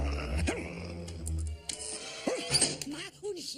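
A dog barks and yips a few times in short bursts, close by, with anxious voices calling out around it in a cartoon-like scene.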